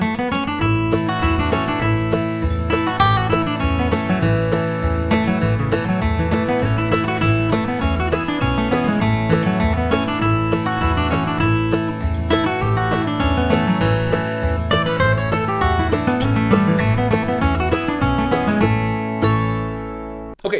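Fiddle plays the classic tune Gold Rush with a floating lick worked into the melody, over a steady backing of strummed chords and bass, bright and continuous with no talking.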